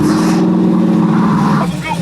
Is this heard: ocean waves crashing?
no